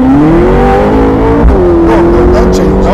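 A Ferrari engine revs hard at full throttle in second gear, a loud close roar whose pitch climbs, dips briefly and climbs again. It is heard from inside the car, with voices faintly under the engine.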